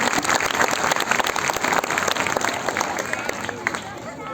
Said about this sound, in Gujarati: એના માટે આપણે તાળીઓ પાડવી જોઈએ